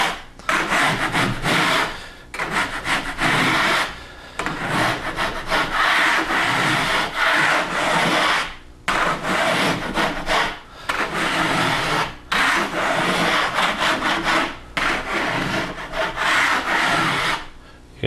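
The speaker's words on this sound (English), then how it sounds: "So at this point, you're ready to start scraping back your hot mud." A drywall knife scrapes back set hot mud joint compound on a patched wall, repeated rough rasping strokes with short pauses between them, close and loud.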